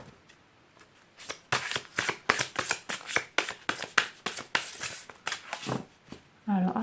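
Tarot cards are shuffled in a rapid series of crisp riffling and flapping bursts, close and fairly loud, with someone speaking briefly at the end.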